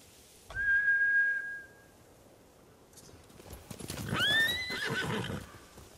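Horses in the Ghost of Tsushima video game give a long whistle-like call, then after a pause a loud rising neigh with hoof clatter and rustling, fairly close.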